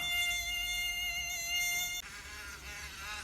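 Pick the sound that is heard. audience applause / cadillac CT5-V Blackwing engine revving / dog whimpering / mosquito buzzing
mosquito buzzing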